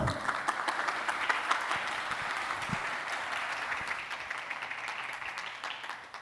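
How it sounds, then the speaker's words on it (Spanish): Conference audience in Bogotá applauds a speaker on multiplayer game creation, a steady wash of many hands clapping at moderate distance, sustained throughout and tapering slightly toward the end. "démosle un gran fuerte aplauso"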